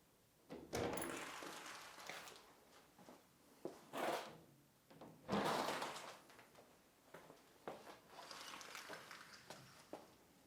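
Large bifold doors in a renovated Bordeaux townhouse are folded open, giving a series of knocks, rattles and sliding scrapes in bursts, fairly faint and close by.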